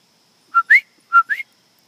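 A whistle gives four short, clear high chirps in two pairs, the second note of each pair rising in pitch, close and alone against silence.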